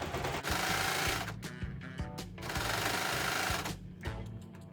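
Baby Lock Accolade serger running while sewing a hem on fabric, a fast steady mechanical whir in two long bursts with brief stops, close and continuous.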